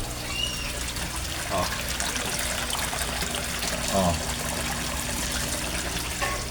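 Pond aerator bubbling water in a koi fish pond: a continuous, dense fizzing and gurgling wash, moderately loud and steady throughout, with faint voices in the background.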